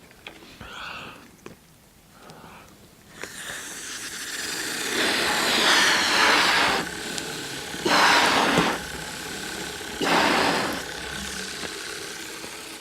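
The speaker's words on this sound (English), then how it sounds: "This is how our engine works." A Ugears wooden pneumatic engine model runs on air from a balloon, giving a close mechanical clatter and whirring in several loud bursts, with quieter handling noises before it starts.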